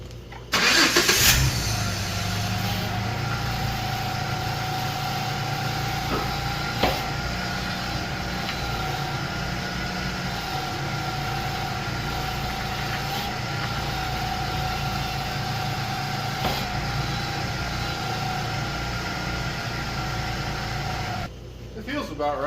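Jeep engine cranking and catching near the start, then settling into a steady mid-pitched idle that runs on with a faint whine, a couple of small clanks, and cutting off near the end.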